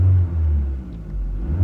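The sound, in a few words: Saturn SC2 car engine idling and revving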